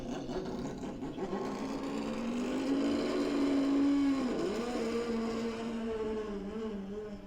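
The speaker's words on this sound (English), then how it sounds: "then it's going to make the sound of the actual Mazda race car, which is called 787" The Mazda 787 race car engine plays back in a museum as a steady mid-pitched drone that swells, briefly dips as if passing, then carries on, heard alone without talk.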